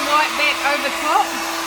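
A hair dryer blows acrylic paint outward across a Dutch pour, a steady close whirring hum with a constant tone and slight flutter throughout, no talking.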